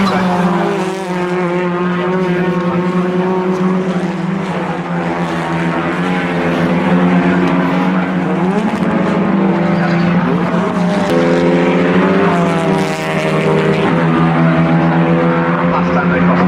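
TCR touring race cars scream around the Snetterton circuit at a BRSCC TCR UK race meeting, a loud, sustained engine drone with rising and falling pitch as gears change, overlaid by continuous commentary.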